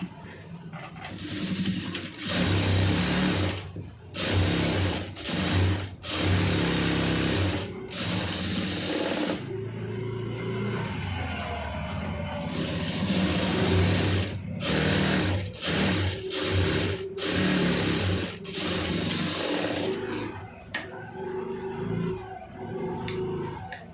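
A sewing machine stitches a lined blouse in repeated loud bursts of rapid whirring, broken by short pauses between runs.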